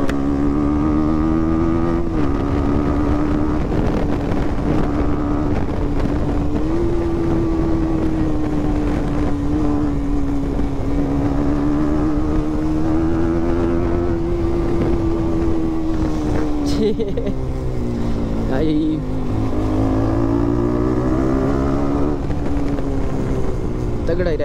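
Motorbike engine droning steadily through a ride on a public road, loud and close with strong wind rush against the microphone, pitch rising and falling with speed, and people talking over it.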